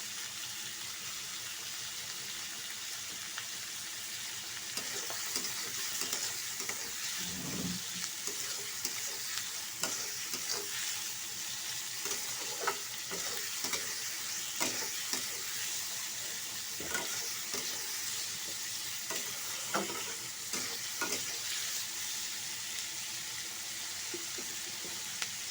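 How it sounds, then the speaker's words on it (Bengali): Onions sizzle in hot oil in a pan for an egg tarka dal, a steady frying hiss broken by frequent scraping stirs and clinks of a spatula, with a brief watery splash partway through. "পেঁয়াজটা আমার ভাজা হয়ে গেছে"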